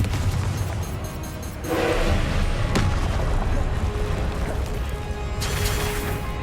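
Loud booming blasts from the Confringo explosion spell in the Hogwarts Legacy video game, with a heavy rumbling burst partway through and another sharp hit later, over continuous dense game noise.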